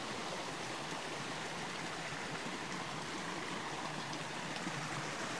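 Mountain stream on Núi Cấm rushing steadily over rocks and debris after a landslide, a dense continuous broadband wash of flowing water heard up close with no talk.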